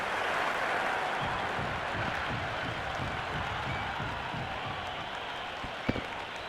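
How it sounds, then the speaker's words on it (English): Crowd at a T20 cricket semi-final between Pakistan and South Africa cheering and applauding a boundary, a dense sustained roar of voices and clapping from the stands, loud and continuous with a single sharp thump near the end. "There's a buzz, a real buzz coming from the stands"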